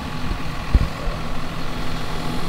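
A 6145 tractor idling in a field while planting corn, a steady low diesel rumble with a brief thump early on, close and continuous with no talk over it.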